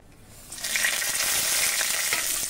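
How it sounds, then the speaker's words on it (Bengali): Green chilli, black cumin, dried chilli and garlic crackle in hot mustard oil, a loud, steady sizzle that swells in after a quieter half-second and holds without pause. "কালো জিরে নিয়েছি, শুকনো লঙ্কা নিয়েছি, রসুন নিয়েছি। এই কটা ভেজে নেব।"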